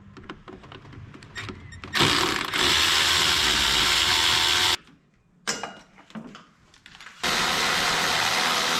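A ratchet wrench backs out 8mm bolts on the fan shroud of a 2004 Ford Explorer, rapid clicking bursts close by, broken by short pauses and quieter handling sounds.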